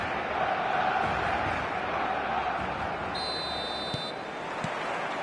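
A steady stadium crowd roar in the eFootball video game before kick-off, continuous and broad with a brief high electronic tone midway, under commentary.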